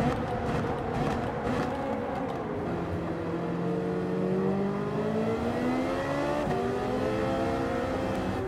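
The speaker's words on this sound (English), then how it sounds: "I'm just gonna let that Porsche go" A Porsche race car in a racing video game drones past with a rising, then sweeping engine whine, moderately loud, the pitch climbing and bending as it passes with no talk over it.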